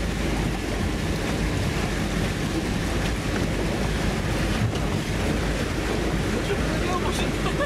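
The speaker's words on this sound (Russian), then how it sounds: "Да, это уже поплыли. Это машина-лодка у нас." An amphibious car-boat moves through river water in the taiga, with a continuous loud wash of water and engine rumble mixed with wind buffeting the microphone.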